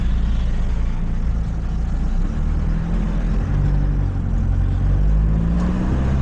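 Road traffic on a Philippine neighbourhood road: a steady, fairly loud low rumble of engines with cars passing close by, continuous for the whole stretch and without talk.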